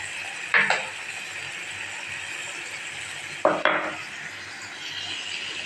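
Ingredients for kurma sauté in oil in a pan: a steady low sizzle runs throughout, broken by two short scraping stirs of a spoon against the pan, close and fairly clear.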